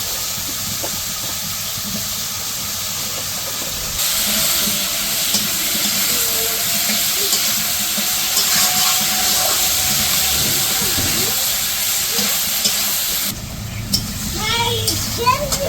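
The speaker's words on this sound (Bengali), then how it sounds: "এখন সবজিগুলো দিয়ে দিব, আলু আর বেগুন" Potatoes and eggplant hiss and sizzle steadily as they hit hot spiced masala in a village-style kitchen, a continuous loud frying noise with a few clinks near the end.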